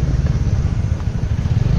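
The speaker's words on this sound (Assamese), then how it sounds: "আজি স্কুটি চলাই আছোঁ" Steady low engine drone of a small scooter while riding, close and continuous, with wind rumble.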